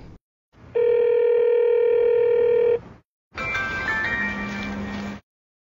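A telephone dial tone sounds while someone calls their boss: a steady, clean electronic tone held for about two seconds, a short gap, then a second, rougher tone burst of similar length, loud and alone.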